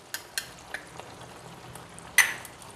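Spices frying in a pan for Punjabi-style chicken curry: a faint, steady sizzle broken by a few sharp clinks of a spoon stirring against the metal, with one louder scrape near the end and no talking.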